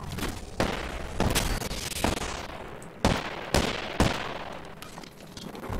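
Gunfire in the video game Apex Legends, sustained rapid bursts under dense noise with several sharp louder shots spaced about a second apart, close and loud.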